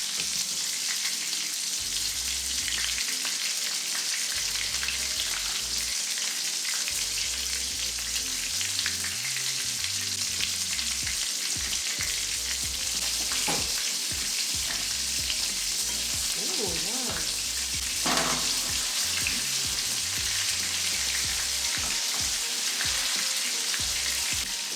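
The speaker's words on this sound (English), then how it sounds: "I also haven't done anything else with those eggs. Just gonna try to see if I can fry a couple of them." A couple of pickled eggs fry in a pan, giving a loud, continuous sizzle that holds steady throughout, with occasional faint clicks and scrapes.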